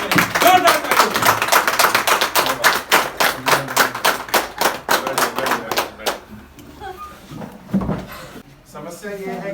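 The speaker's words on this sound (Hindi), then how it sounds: "मैं चाहूंगा आप सभी लोग खड़े होकर के जोरदार तालियों से गुरु जी का स्वागत करें, जोरदार तालियों।" Scattered claps from an event audience in India welcoming a guru as a guest, sharp irregular claps fading after about six seconds into quieter background noise and a few voices.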